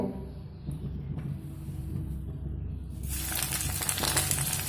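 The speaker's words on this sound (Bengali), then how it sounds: "সয়াবিনগুলো দিয়ে লবণ আর হলুদ দিয়ে ভেজে নেব" Soybean chunks seasoned with salt and turmeric hit hot oil in a pan, starting as a quiet low sizzle that jumps into a loud, bright, steady crackling fry.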